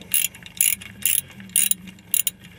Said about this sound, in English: And this takes a 13mm to undo it all.